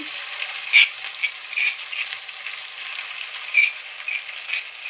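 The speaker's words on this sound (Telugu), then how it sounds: "ఇవి వేగింది పచ్చిమిరపకాయల పేస్టు" Paste of green chili, cumin and salt frying in oil for ugani bajji, a steady close crackling sizzle with a few sharper pops scattered through, no voices.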